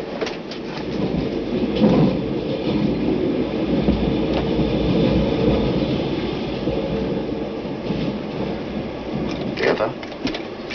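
A train rumbling steadily along the rails in a radio drama set on a night express, a continuous broad clatter and roar filling the whole stretch with faint higher rattles on top.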